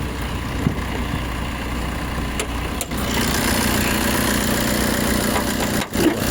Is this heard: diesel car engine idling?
yes